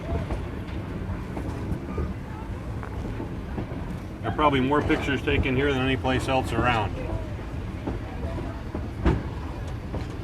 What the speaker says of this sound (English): Locomotive will come right out in front of us.